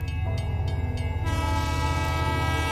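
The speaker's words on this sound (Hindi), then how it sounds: "उसी वक्त एक ट्रेन आई और रेखा को काट कर चली गई।" A train passes with a loud, sustained horn blast, used as a sound effect in a narrated Hindi horror story. Steady rumble throughout, with no voices over it.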